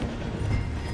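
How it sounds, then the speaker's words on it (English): A steam train in Red Dead Redemption 2 rolls slowly through a station, giving a steady, close, low rumble of wheels and carriage noise with no talk over it. "The train is slowing down to go through the station."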